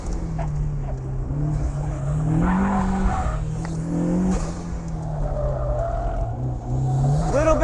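A turbocharged Flyin Miata Mazda Miata drones steadily through corners on a racetrack, engine note rising and dipping with throttle, heard from inside the car with faint tire noise and wind.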